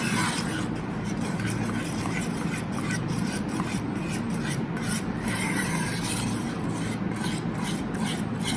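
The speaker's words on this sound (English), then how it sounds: "And go on stirring this. Mix it nicely." Sindhi kadhi made with tuar dal and besan is stirred in a pot over a high flame, giving a continuous rough scraping and rubbing sound, close and steady throughout.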